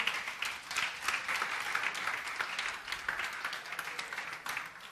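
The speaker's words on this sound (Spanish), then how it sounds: "Dale un aplauso a Dios, se lo vas a dar con todo tu corazón" Clapping from a church congregation during a Lenten sermon swells and ebbs over five seconds, a fairly distant, steady patter of many hands with no speech over it.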